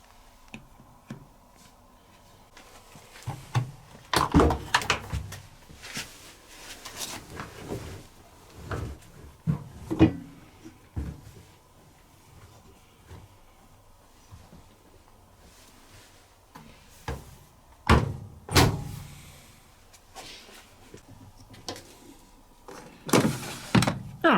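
Detergent drawer of a Servis M6702S 7kg 1200 spin washing machine being handled, a few distinct plastic clacks and slides rising clearly over quiet room tone, spread across the stretch with pauses between them.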